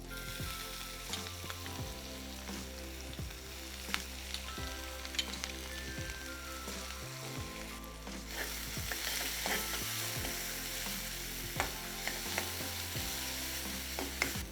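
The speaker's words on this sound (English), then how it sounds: "I will add 1 teaspoon of cumin seeds, 1 dry red chili. I will add 1 medium size chopped onion," Chopped onion sizzles in hot oil with cumin seeds and a dry red chili while it is stirred, giving a steady crackling fry with regular scraping strokes, close and fairly quiet, with no voices.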